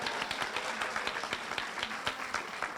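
An audience applauds Zach at an evening awards and induction ceremony, with steady, dense clapping that keeps an even level for the whole stretch, no talking over it.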